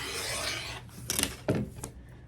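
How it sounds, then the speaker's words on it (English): Fabric edge being trimmed straight along a ruler while making a quilt block, heard as a steady close rasp followed by a few short, sharp cutting strokes. "I'm going to trim off the edge to get me a straight cut."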